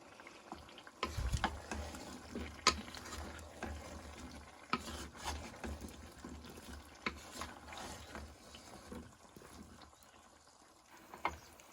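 Utensil scraping and stirring through potatoes and meat in a heavy cauldron, with irregular clanks and a soft sizzle underneath, close by and fairly quiet.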